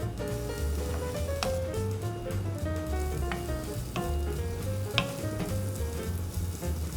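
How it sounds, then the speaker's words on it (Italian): Guanciale frying in a dry pan with no added fat, a steady close sizzle and crackle with occasional small pops, continuous throughout. "padella senza grassi e vado a mettere il guanciale."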